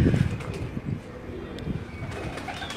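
Caged pigeons coo in a low, soft murmur at a pigeon keeper's setup of many cages in Karachi, steady and close, with faint background noise and no clear speech.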